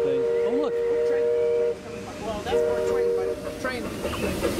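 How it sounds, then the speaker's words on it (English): Train passing on Main Street, a steady rumble with two sustained steam-style whistle blasts. Voices and crowd chatter sound over it. "Oh, look. Train."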